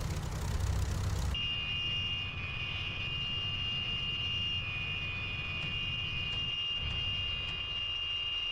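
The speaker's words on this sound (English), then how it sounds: "So I'm going to cut my engines." Aircraft engines shutting down in the DCS flight simulator game: a loud broadband engine roar cuts off abruptly after about a second, leaving a quieter steady high-pitched whine and faint cockpit hum.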